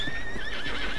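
A horse whinnies in the video game Red Dead Redemption 2, a loud, wavering high neigh lasting about a second over a dense background with faint hoof clops.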